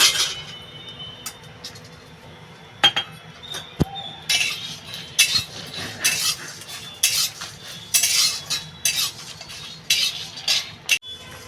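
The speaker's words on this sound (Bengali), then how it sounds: "আর ধনে জিরে একটু শুকনো কড়াইতে ভেজে নেব" Coriander and cumin seeds dry-roasting in a dry wok are stirred with a utensil, giving irregular metallic clinks, scrapes and light rattles close by, with no talk.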